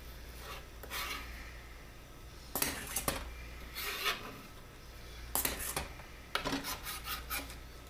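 A kitchen knife scrapes food across a cutting board in short rasping strokes, several clustered bursts spaced a few seconds apart, fairly quiet and close with no talking.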